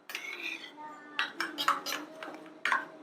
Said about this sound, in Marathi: थोडंसं त्याच्यात हाच दूध मी टाकून घेते आणि व्यवस्थित असं फेटून घ्यायची